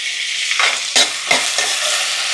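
Chopped tomatoes fry in hot oil with onions in a pan, giving a steady bright sizzle broken by a few scraping stirs of a spoon, close and fairly loud, with no voices.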